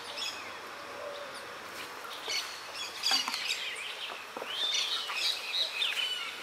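Small birds chirp at a fishing pond, giving bright, quick tweets and trills scattered irregularly over a quiet outdoor background, growing busier toward the end.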